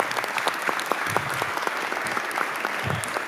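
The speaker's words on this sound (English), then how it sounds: "Let's give both teams a round of applause." An audience applauds both teams after a debate round at a House committee event on trade with China, with steady, fairly close clapping throughout the short stretch.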